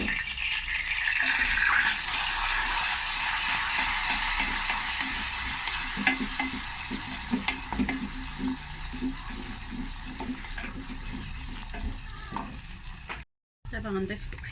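Butter and flour stirred in a pan for a béchamel with a pinch of salt, a continuous close sizzle with frying crackle and scraping strokes throughout, a brief gap near the end.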